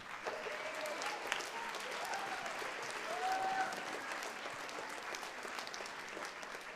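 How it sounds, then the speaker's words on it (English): An audience at a school spring band concert applauds students being recognised, steady moderate clapping filling the room, with brief faint voices and a soft tonal sound mixed in. "Give a big round of applause."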